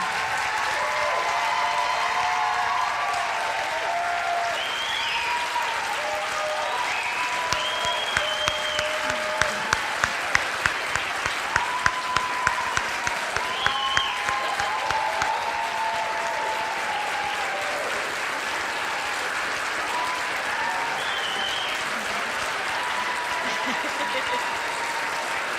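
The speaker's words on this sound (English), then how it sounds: "Give these guys a round of applause." A high school audience at a scholastic awards ceremony claps in a long, sustained round lasting most of the stretch. Sharper individual claps stand out nearby, and voices murmur underneath.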